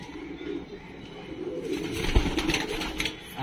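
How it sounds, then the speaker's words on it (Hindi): Kasni pigeons coo in a low, steady murmur close by, with a brief fluttery rustle partway through and no voices. "कासनी कबूतर है"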